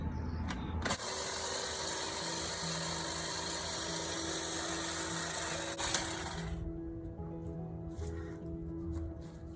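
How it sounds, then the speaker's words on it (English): A motorised hedge trimmer runs steadily against a dense asparagus plant, a constant whining buzz with a broad hiss that drops away near the end, leaving a lower hum. "The hedge trimmer is not working. It's barely making a dent in this guy."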